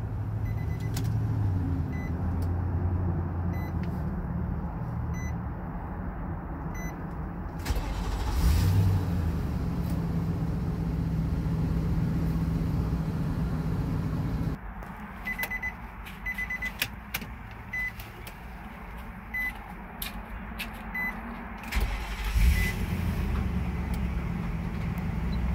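A 2012 Nissan Armada Platinum Reserve with a 5.6 liter V8, heard from inside as it is started and left running: a steady low idle, a clear surge as it fires up, then a quieter, smoother idle with small clicks and switch sounds.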